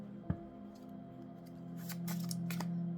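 A deck of oracle cards is shuffled and cut, a sharp snap near the start followed by soft riffling and rustling that swells toward the end, close by and quiet.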